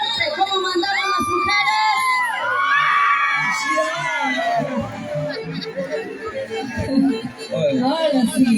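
Women in a live concert audience shout and whoop loudly together, a dense, sustained crowd roar with rising yells and cheers, with speech mixed in.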